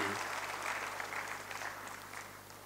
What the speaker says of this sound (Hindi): आप तमाम लोगों से दरख्वास्त करते हैं कि तालियों के साथ इस्तकबाल करें